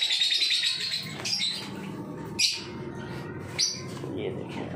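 Java sparrows, including silver Javas, chirp in an aviary with bright, high tweets and a few sharper calls over a soft cooing background, while a person talks nearby.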